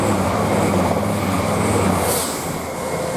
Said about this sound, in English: Now I've got East Midlands Parkway coming through here.